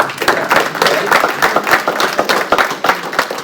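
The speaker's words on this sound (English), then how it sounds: "I think a round of applause for that." Applause at a school board meeting honoring a staff member's 32 years: a dense burst of many hands clapping in a room, steady and fairly loud throughout with no talk.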